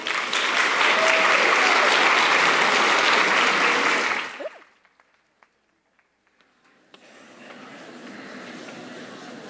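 Loud, sustained audience applause after a speech at a communications studies speech competition, cutting off abruptly to near silence with a few faint sounds, then quieter room noise returns.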